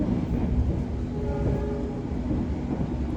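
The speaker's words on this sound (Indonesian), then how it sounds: "Kereta api Kuto Jaya Utara ya, kita bertemu di stasiun Kuto Winangun ya." The Kutojaya Utara passenger train, hauled by a red locomotive, rumbles past nearby in Indonesia, heavy low rolling noise with a brief tonal whine in the middle, steady and loud throughout.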